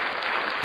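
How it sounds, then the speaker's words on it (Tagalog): A brief burst of dense, close audience applause at a semifinal challenge event, steady and with no talking. "Diyan ba yung palakpak natin dyan?"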